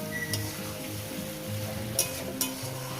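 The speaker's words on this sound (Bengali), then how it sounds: "এবার এটাকে আমি সুন্দর করে একটু মানে ভেজে নেব মশলার সঙ্গে একটু কষিয়ে নেব" Vegetables, including Malabar spinach and pumpkin, sizzling with spices in a pan for a Bengali chorchori, a steady close frying hiss with a few faint clinks.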